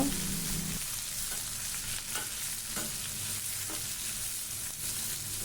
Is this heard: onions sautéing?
yes